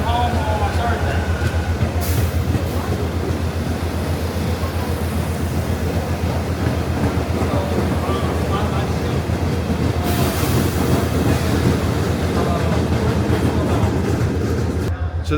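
California Zephyr passenger train standing at Denver station, giving off a loud, steady mechanical rumble and hum with occasional hissing bursts, while people talk nearby.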